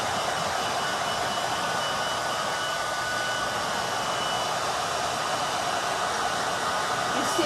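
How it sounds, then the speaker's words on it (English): Hair dryer blowing on freshly painted furniture, an Asian-inspired table, a steady close whirring rush of motor and airflow running continuously without pause or voices. "I'm going to hit it with a hairdryer because I want you to see."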